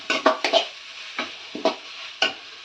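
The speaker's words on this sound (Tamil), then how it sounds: "அதனால் இப்போ 2 பெரட்டு மட்டும் நம்ம ஸ்டவ் ஆஃப் பண்ணிக்கலாம்" A spatula scrapes and turns coriander leaves in a hot pan for an onion-tomato chutney, with about seven distinct stirring strokes. The first strokes come in a quick cluster, then sparser, crisp scrapes follow close up with no talking.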